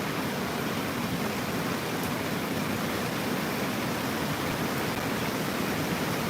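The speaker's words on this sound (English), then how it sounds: "You can hear that rain." Rain falls as a steady, dense broadband hiss, constant and fairly loud, with no voices over it.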